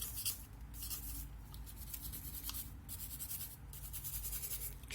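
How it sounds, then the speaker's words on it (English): A brush scrubs the moving parts and rails of a Beretta 92FS pistol in rapid, repeated dry bristly strokes, close and fairly quiet, with no talk. "Anywhere where there's moving parts, you want to make sure you brush that real good."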